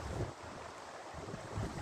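Strong wind blows across the shore of Ebensee lake on a sunny day, a steady low roar buffeting the microphone in rising and falling gusts, with faint water movement beneath and no voices.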